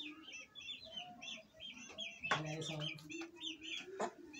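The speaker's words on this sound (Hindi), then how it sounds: "ये सामने मुर्गी है" A hen with chicks clucks a few times close by, with small chirps and bird calls scattered around it in a quiet outdoor setting.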